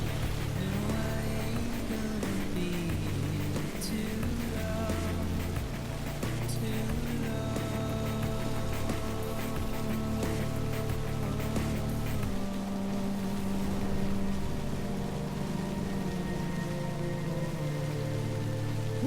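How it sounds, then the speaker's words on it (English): Steady rain pattering across surfaces in the Death Stranding video game, continuous and fairly loud, mixed with a sustained low musical drone and tonal layers, no talk. "yet we're in the fucking rain"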